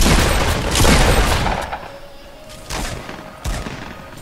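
Sniper rifle shots in a Fortnite squad match, a few sharp distant cracks spaced a second or so apart over steady game ambience with no talking.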